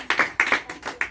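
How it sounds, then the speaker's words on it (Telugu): A few people clapping in rhythm at a home cottage prayer meeting, five or six close, even claps in quick succession with no talk over them. "చప్పట్లు కొట్టారమ్మా."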